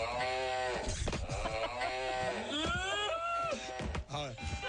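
A cow mooing sound effect, aired on a radio show as a mock booing, sounds as a series of loud, drawn-out moos close to the mic, with several overlapping bellows.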